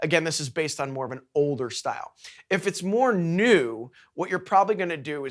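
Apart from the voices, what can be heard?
None of the usual background noises is heard.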